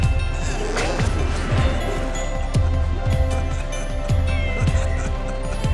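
A lion cat in the Scribblenauts Unmasked video game meows loudly and repeatedly in a steady series of rising cries over a constant game background hum.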